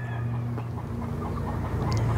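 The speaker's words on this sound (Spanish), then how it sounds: "Esta gallina está preciosa." A hen clucks in a poultry breeding yard in Jiquilpan, close and moderately loud over a steady low hum and a busy background of other birds.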